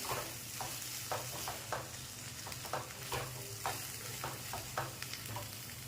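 Chickpeas being sautéed and mixed in a pan for a quick chickpea usal, a steady low sizzle and hiss with a run of regular scraping strokes from the stirring spoon, no talking.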